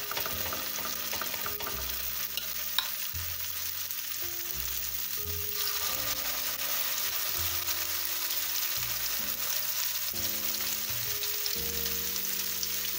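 Steady oily sizzling and crackling of zucchini and leek patties frying in a little oil in a pan, continuous and close, with faint low clinks and stirring in the background.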